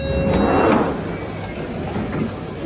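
A London passenger train heading to Charing Cross, heard from inside the carriage as a steady rumble of wheels on track, with faint squeals and brief tonal whines over the noise.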